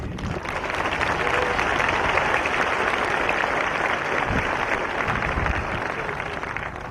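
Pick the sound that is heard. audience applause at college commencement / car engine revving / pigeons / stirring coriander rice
audience applause at college commencement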